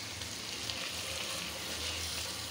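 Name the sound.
cooking, frying in a pan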